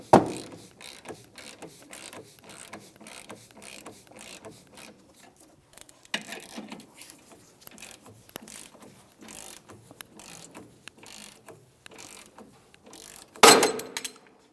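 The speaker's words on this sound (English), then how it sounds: "So the socket on this happens to be a 24 millimeter. So socket and ratchet." Ratchet turning a 24 mm socket on a Hyundai Elantra lower ball joint: rapid, close clicking of the pawl in repeated strokes, with short pauses and a louder metallic clunk near the end.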